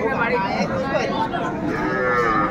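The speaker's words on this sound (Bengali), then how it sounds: "এই যে এখানে একটা দেখছিলাম সুন্দর মানসম্মত গাভী বাছুর" A cow with her calf at Ambari cattle market in Dinajpur, heard as steady lowing and mooing over a busy market background, with faint chatter around.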